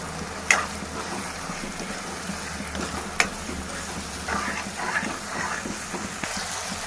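Cauliflower and broad bean curry being stirred and fried in a pan, with a steady low sizzle and a couple of sharp spoon knocks against the pan, no talking.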